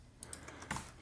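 A few quick keystrokes on a Mac computer keyboard, close and fairly soft, with a slightly louder cluster of presses near the end.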